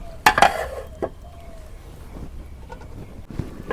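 Beef and taro stolons are stirred slowly in a pot. A couple of sharp clinks from the spoon at the start give way to a soft, steady scraping and bubbling, close by and with no talking.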